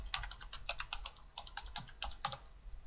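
Quick bursts of keystrokes on a computer keyboard as search terms are entered, close and clear, in uneven clusters of clicks with short pauses, no voices.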